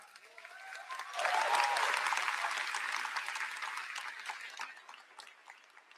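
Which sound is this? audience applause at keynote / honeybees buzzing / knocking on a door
audience applause at keynote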